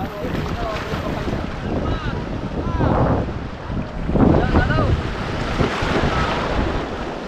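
A boat rocks on ocean waves with wind buffeting the microphone, water surging in swells, and people talking faintly in the background.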